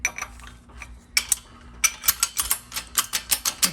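Ratcheting clicks from cranking down a DT-47867 transmission spring compressor tool during a Ford 4R100 rebuild, a close, sharp run of irregular metallic clicks that speeds into a steady series, with no voices.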